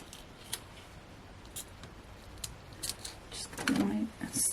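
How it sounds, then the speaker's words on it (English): Scissors snip through card at a craft table, a few sharp close clicks and cuts building near the end, with quiet talk in the background. "just put my other scissors there"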